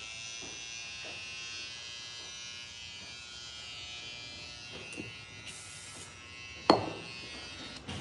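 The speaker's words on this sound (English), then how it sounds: "It's the quietest trimmer Babyliss has ever produced." A Babyliss Tomb45 hair trimmer runs with a steady, quiet electric buzz throughout, with a brief handling knock near the end.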